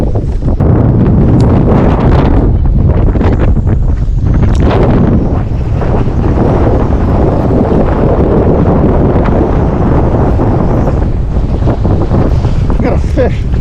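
Wind buffeting a microphone on a boat while bass fishing in the fall, a constant loud roaring rumble that carries through the whole stretch, with water slapping faintly underneath.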